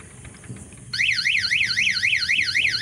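E-rickshaw reverse horn sounding: after a moment of quiet background noise, a loud, close, continuously sweeping up-and-down electronic warble starts and keeps repeating steadily, with no talk.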